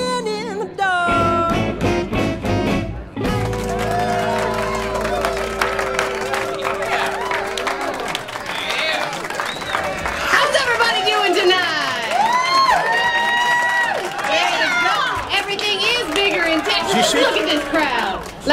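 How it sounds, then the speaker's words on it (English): A packed burlesque-show crowd cheers, whoops and claps loudly and continuously, with shouting voices and chatter layered throughout, the noise holding steady for the whole stretch. "Look at this crowd."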